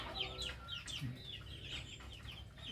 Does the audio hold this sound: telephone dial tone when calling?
no